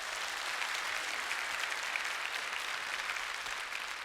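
Church congregation applauding during a Sunday service, a steady dense wash of many hands clapping at moderate distance, even in level throughout with no voices.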